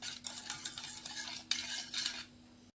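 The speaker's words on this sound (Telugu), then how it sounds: "ఇప్పుడైతే ఇలా కలుపుకుందాం. ఉండలు లేకుండా అయితే కలుపుకోవాలి." A spoon stirs a junnu mixture in a pot to break up lumps, sounding as soft scraping strokes with light clinks in a few bursts before a quiet tail, close and fairly faint, with no talking.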